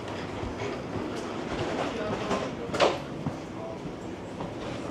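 Interior of a Frecciarossa 1000 high-speed train while riding, a steady broadband rumble and hiss of rolling wheels with faint rhythmic clicks and a brief louder rattle in the middle.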